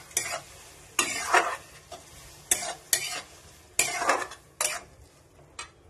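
Curd being stirred into a cooking pan, with a spoon scraping and clinking against the metal in a quick series of bursts over a soft sizzle.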